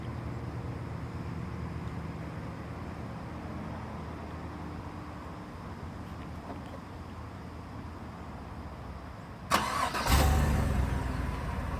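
A 2015 GMC Sierra SLE All Terrain pickup with a 5.3-liter V8 cranks and fires up after a long quiet stretch, then settles into a smooth, quiet, steady idle close by.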